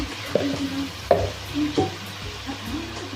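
Chicken fries with spices in a pan as a low sizzle runs underneath while a spoon makes four distinct scraping stir strokes about a second apart, close by and without talk.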